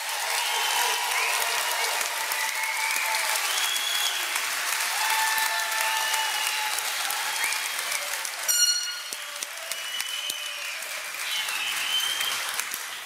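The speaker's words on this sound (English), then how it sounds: "Let's give them one more round of applause." A large crowd gives a long round of applause for the graduating class at a university spring commencement, with sustained, dense clapping, a few whoops and whistles, and a brief louder burst midway.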